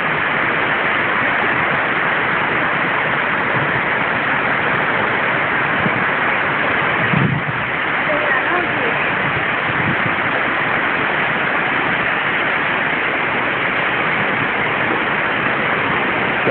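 Steady, loud broadband rush of a waterfall near Tabuleiro in Brazil, a constant roar filling the whole clip without breaks and with no voices over it.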